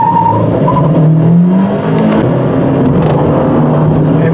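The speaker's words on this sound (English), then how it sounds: "you can rev it up, dump the clutch, get off the line quicker" A 2017 Fiat 124 with a turbocharged engine and six-speed manual revs loudly and launches off the line, its close engine roar rising and falling steadily while faint tire noise comes through.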